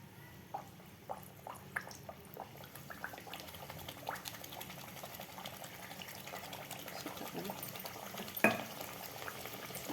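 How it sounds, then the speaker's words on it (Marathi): Mathri dough frying in hot oil over medium heat, a soft continuous sizzle and bubbling with scattered crackles and pops, fairly quiet and close, with one sharper pop near the end. "मिडियम हीटवरच आपल्याला तेल गरम करायचं आहे म्हणजे आपली मटरी व्यवस्थित तळते आता यामध्ये आपल्याला मटरी टाकायच्या आहेत"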